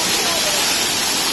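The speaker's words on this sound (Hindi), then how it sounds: "तो देखो ये है झरना।" A waterfall at Guru Nanak's bathing place in Menchukha, Arunachal Pradesh, roars as a steady broadband rush of falling water, close and loud, with no break across the moment.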